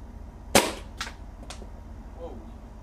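Air gun firing an H&N Rabbit Magnum Power pellet: one sharp, loud crack followed by two fainter snapping reports about half a second apart, then quiet room tone.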